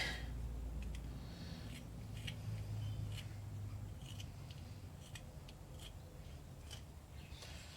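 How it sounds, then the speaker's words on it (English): A small knife made from an antique butter knife shaves a pencil point, giving faint, scattered scraping and clicking cuts over a low background hum, with no voices. "I'm gonna have to sharpen my little pencil."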